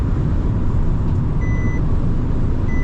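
A 2021 Renault Kangoo's parking sensor sounds a couple of short, clear warning beeps over a steady low engine and cabin rumble.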